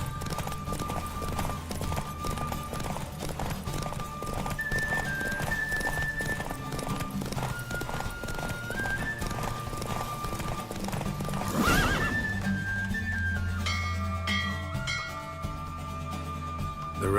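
Clip-clop hoofbeats of a galloping horse in The Witcher 3: Wild Hunt, steady and close, with whinnies and neighs breaking in and game music playing underneath throughout.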